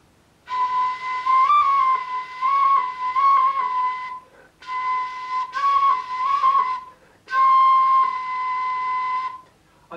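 A small whistle built into a shepherd's staff sounds three long, fairly clear notes with slight wavering pitch and short gaps between them, close and alone.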